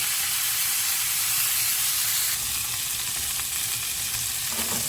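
Lamb chops marinated in rosemary and garlic sizzle and crackle in a hot pan with a steady, loud frying hiss that never lets up, and a brief shift in tone comes midway as the pieces are moved.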